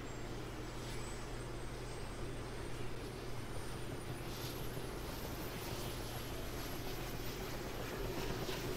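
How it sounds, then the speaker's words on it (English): A constant engine drone of a helicopter in a video game, a steady whir running unbroken and loud throughout with a faint rising whine above. "I like this helicopter."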